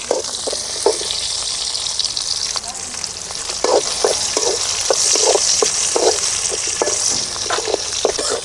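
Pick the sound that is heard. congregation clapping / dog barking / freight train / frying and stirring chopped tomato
frying and stirring chopped tomato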